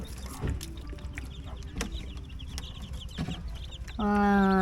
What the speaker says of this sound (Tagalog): Nakakatuwa yung aming mga sisiw